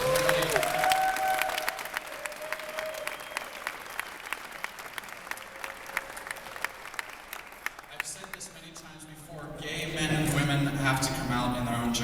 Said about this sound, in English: give a big round of applause to Steve's family, who is all here tonight.